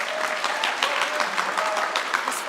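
Audience applause at a senior honors night as a graduating student is called up for recognition, steady dense clapping filling the room throughout.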